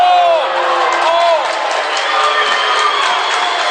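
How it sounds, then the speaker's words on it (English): Basketball fans cheer and whoop in a school gym, a loud, steady crowd roar with shouting voices rising and falling throughout. "the Marion fans are cheering the poor sportsmanship"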